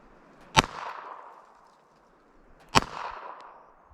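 Two sharp Walther PPK/s pistol shots fired at a target 10 yards away, spaced about two seconds apart, each a loud crack with a short decaying echo.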